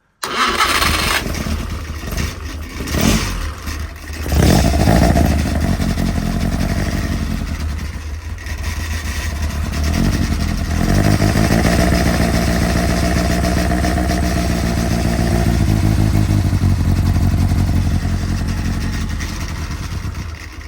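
An offset engine cranks with a few rough bursts, then catches and settles into a steady, even idle with no mechanical rattling, running on loudly with no talking.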